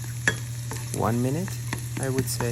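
Eggs are stirred in a hot non-stick pan, with soft scraping and a low steady sizzle running beneath a voice as he talks throughout.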